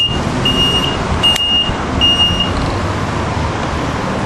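A Caddy mobility scooter turns on the spot. A steady low motor drone runs throughout, with several short high-pitched beeps repeating in the first half.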